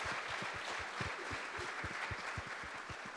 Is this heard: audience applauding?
yes